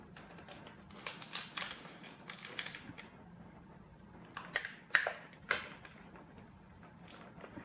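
A gel sheet is peeled away from a brick stamp mould, giving sparse sticky crackles and sharp little clicks in irregular clusters against a quiet, low background hum.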